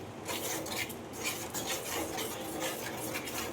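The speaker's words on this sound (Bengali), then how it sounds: "ভালো করে দইটাকে মশলার সাথে মিক্স করে নিতে হবে" Yogurt being stirred into spices in a pan over a low gas flame while making a Bengali fish curry, a steady scraping and rubbing of a utensil against the pan with faint clinks, continuous and close.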